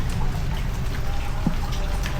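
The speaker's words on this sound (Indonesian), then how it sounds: "By the way, ini hujan ya. Jadi tadi hujannya lumayan deras dan sekarang ini sudah mulai redah lah." Steady rain falling outdoors by a large factory site in Lampung, a continuous dense patter of drops easing after a heavy downpour, with no talk.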